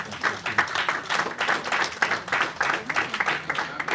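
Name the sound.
applause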